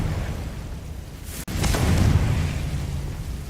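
A Confringo fire spell bursting in Hogwarts Legacy, a sharp crack partway through followed by a swelling, rumbling blast that holds loud for about two seconds before easing.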